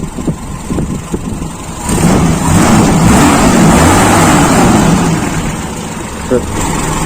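Toyota Kijang engine with points-type distributor runs at a near idle, then revs up and holds a louder sustained drone before easing back, with someone speaking over the start.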